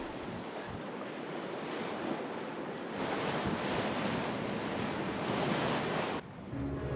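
Antarctic sea near the South Shetland Islands, still rough after a recent gale with swells of 1.5 to 2 metres, rushes and roars as a steady broad wash mixed with wind noise, loud and continuous.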